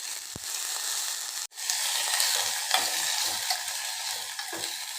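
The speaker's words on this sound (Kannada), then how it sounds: "ತುಪ್ಪದಲ್ಲಿ ದೊಡ್ಡಪತ್ರೆನ ಒಂದು 2-3 ಮಿನಿಟ್ಸು ಫ್ರೈ ಮಾಡ್ಕೋಬೇಕು" Indian borage (doddapatre) leaves fry in ghee in a pan, making a steady close sizzle that drops out for an instant, with soft stirring scrapes over the hiss.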